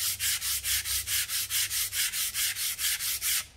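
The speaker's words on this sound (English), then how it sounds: "So I'm gonna sand all of these." Hand sanding of wooden pencil box parts from a woodworking craft kit: steady, rhythmic back-and-forth rasping strokes, about four per second, close and continuous with no talk.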